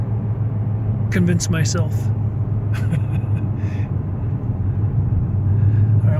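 A 2016 Ford Shelby GT350 cruises along the road, its steady low engine rumble and road noise constant throughout from inside the cabin, while someone speaks briefly over it.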